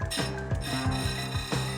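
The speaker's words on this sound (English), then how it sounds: "He sharpens his blades with precision to make sure they will cut efficiently the next day on the job." Hand filing of chainsaw blade teeth by an experienced timber faller, with steady rhythmic rasping strokes about three per second, close and clear with no talking.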